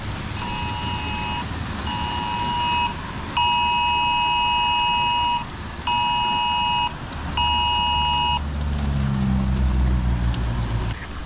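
A phone's tornado warning alert beeps in steady bursts of tones with short gaps, loud and close, over a low rumbling background.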